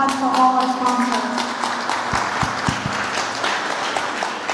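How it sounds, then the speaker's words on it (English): Breakfast audience applauding sponsors at a mayors' business event, steady room-filling clapping with a few sharp nearby claps standing out midway and voices faintly underneath. "So, big round of applause for all our sponsors."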